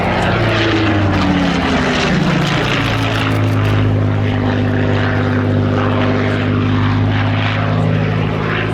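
A Supermarine Spitfire propeller fighter flying at the RAF 100 Cosford Air Show, a loud, continuous engine roar with a drone that sweeps down in pitch as the plane passes close by.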